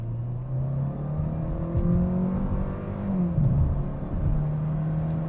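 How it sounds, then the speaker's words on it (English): A 2021 Hyundai Sonata Hybrid in sport mode pulls away at full throttle, its engine droning steadily inside the cabin with a rising and falling whine and a low continuous road rumble. "Moving on to the driving dynamics of the Hyundai Sonata Hybrid, I'm gonna floor it."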